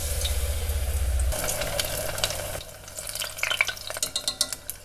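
Cornmeal-battered morels and squash blossoms stuffed with cheese drop into hot oil and deep-fry with a steady, close bubbling sizzle, broken by short crackles and spatters as the oil churns around them.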